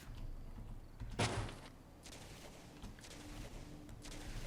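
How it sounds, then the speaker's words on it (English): Gunfire in the Fallout 4 video game during a settlement build, one sharp loud crack followed by fainter, scattered distant shots over a low background hum. "We're just going to ignore the gunshots because that is life in the Commonwealth."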